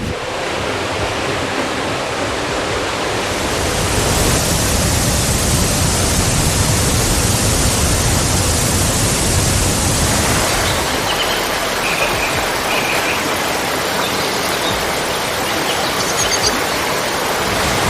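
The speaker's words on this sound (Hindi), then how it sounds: "कुटला के रास्ते में सबसे पहला जो वाटरफॉल आता है वो यही वाला है।" Waterfall on the trail to Kutla beyond Kasol in the Parvati valley, a steady broadband roar of falling water that swells louder midway and stays continuous throughout, with no voices.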